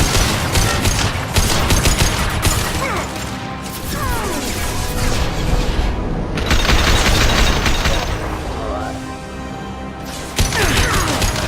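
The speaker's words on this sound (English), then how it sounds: "Concussive shot ready." A video game's concussive shot ability fires amid loud, sustained bursts of rapid gunfire and crashing impacts that roll on almost continuously, broken only by short lulls.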